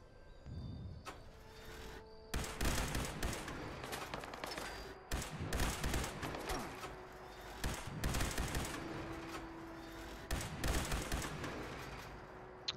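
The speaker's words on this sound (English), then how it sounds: "I don't know who's shooting at us." Gunfire in Fallout 76: repeated bursts of rapid automatic shots in several clusters, fairly loud and close, separated by brief quieter gaps.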